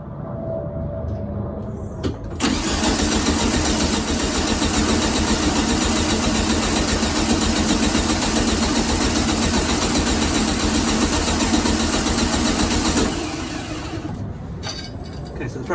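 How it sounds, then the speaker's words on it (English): Volkswagen Beetle engine cranked over on the starter after a fresh oil fill, a loud steady churning drone that starts abruptly, runs evenly for about eleven seconds, then cuts off, close by. "I'm actually just going to crank the engine over until the oil light goes out"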